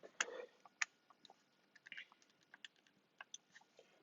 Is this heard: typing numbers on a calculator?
yes